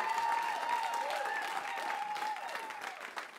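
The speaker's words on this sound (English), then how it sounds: "Come on out, give him a round of applause." An audience applauds as producer Lazerbeak comes out at an event for Dessa, fairly faint, continuous clapping with some cheering tones over it, fading slightly toward the end.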